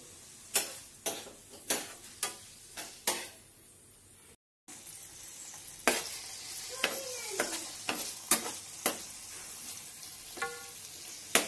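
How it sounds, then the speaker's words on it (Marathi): Paneer frying in a pan, a light, low sizzle under a run of sharp, evenly spaced clicks and taps from the utensil against the pan, close by, with a short gap of silence partway through. "तर आता पनीर इथे फ्राय झालेलं आहे."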